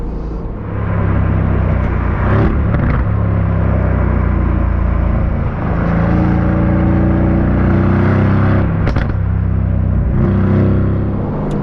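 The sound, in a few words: Aston Martin Vantage V8 engine revving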